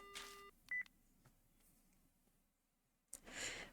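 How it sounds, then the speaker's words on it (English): In a horror visual novel game, a phone call ends abruptly: a short electronic beep tone and a couple of clicks, then near silence before a burst of static-like noise near the end. "The phone call cuts off abruptly."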